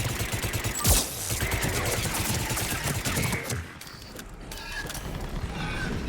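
Gunfire in Mass Effect 3 aboard a shaky flying craft: a rapid burst of shots and a sharp hit near the start over a dense mechanical rumble, easing into quieter, steadier noise after a few seconds.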